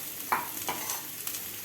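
Finely chopped capsicum and grated carrot fry in a pan with a soft, steady sizzle, broken by a few quick stirring scrapes close by.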